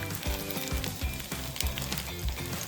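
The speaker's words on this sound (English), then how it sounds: "Flip once more and cook for another minute to make sure it's extra crispy" A kimchi pancake sizzling in a frying pan, with dense, steady crackling and popping of hot oil close by, plus a rhythmic low thumping throughout.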